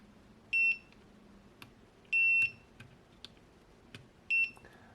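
Three short, high electronic beeps from a multimeter continuity tester checking capacitors in a faulty Canon Ixus camera, evenly spaced about a second and a half apart, with faint clicks and taps between them.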